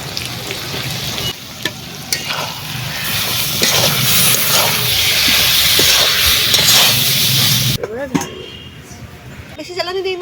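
Eggplant drops into a pan of dried fish (shutki) curry, setting off a loud, close, hissing sizzle with stirring that runs steadily before cutting out to quieter sounds, while a voice talks over it.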